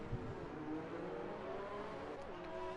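Race cars in a Monaco GP racing video game, engines droning steadily at high revs through the chicane, a continuous layered whine of several cars close together, with no voices.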